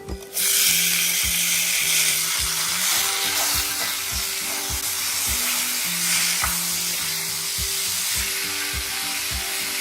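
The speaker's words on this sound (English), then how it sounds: "Roast the red chilies for 30 seconds. Then add the chopped tomatoes." Red chilies and chopped tomatoes sizzle and fry steadily in a hot pan, a continuous close crackling hiss with occasional scraping stirs and no talking.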